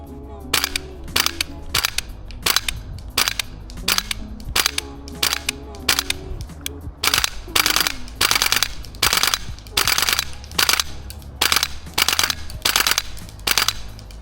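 XM7 airsoft rifle firing in rapid repeated bursts, a steady series of sharp, loud, close shots with short pauses between volleys and no talk.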